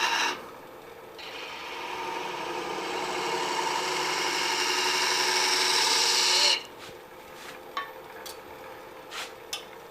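A super fine gouge cuts into a wooden ornament spinning on a lathe, a steady scraping hiss that builds for several seconds and then stops abruptly, followed by a few faint clicks and taps.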